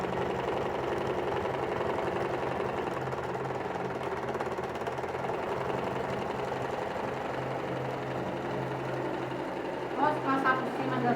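A sewing machine stitching small fabric scraps into a patchwork pouch, whirring in a steady continuous run under a voice.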